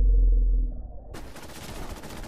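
Gunfire in the video game Fallout 76, a quick rattling string of shots that breaks out after a low rumble and keeps popping as close, crisp bursts.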